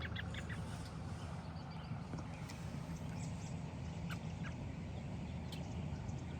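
A flock of ducks and other birds in Healdsburg, California, quacking and honking continuously as a dense, fairly loud chorus with occasional sharper calls, no voices.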